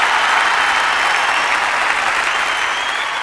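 Dense, loud audience applause at a Tamil Diwali debate stage event, a sustained even wash of many hands clapping without a break.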